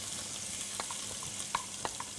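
Meat and onion frying in a large pot, cooked for meat with cabbage, giving a steady close sizzle with scattered sharper pops and crackles and no talk.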